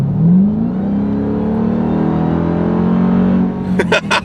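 The engine of a 2021 Dodge Durango Hellcat SUV revs loudly and holds a deep, throaty roar up close, then clicks and rattles as it settles near the end.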